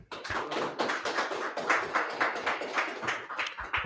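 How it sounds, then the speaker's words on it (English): An audience claps together in a dense, steady burst of rapid hand claps at a church Feast of Dedication gathering, close and lively throughout. "clap it up one more time, Akim."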